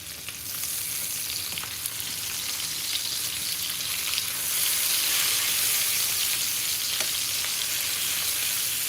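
Food sizzling steadily in a pan, cooked outdoors, a close dense crackle and hiss that grows slightly louder midway, with occasional faint clicks and no talking.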